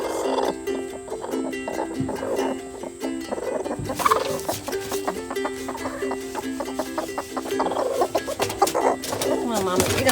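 Hens cluck and squabble over a nesting box in a coop, close and busy with overlapping calls and a sharper squawk partway through, while a person talks faintly in the background.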